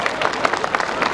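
Applause from the audience at a live Nepali stand-up comedy show, a dense steady wash of many hands clapping without a break, fairly loud and close.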